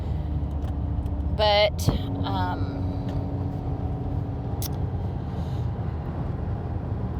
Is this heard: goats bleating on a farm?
no